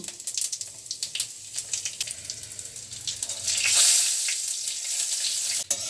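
Dried red chilli, bay leaf, cumin and asafoetida tempering in hot mustard oil in a wok: steady, bright sizzling and crackling that swells midway, close and continuous, with small clinks.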